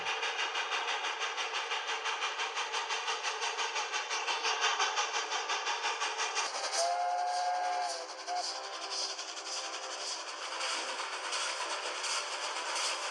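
A very long train passes along a railway track, its wheels clattering in a steady rhythm that carries on throughout, and partway through a brief whistle cuts in.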